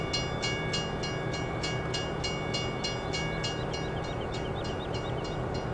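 A train rolls along the track in the video game Farming Simulator 17, a steady rumbling drone with rhythmic clicking from the wheels, loud and continuous with no voices.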